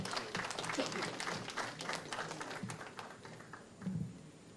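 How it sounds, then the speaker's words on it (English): Scattered, fairly quiet applause from an audience at a national budget month launch event, uneven claps continuing through the moment with a few louder spots. "Can we welcome her with a round of applause?"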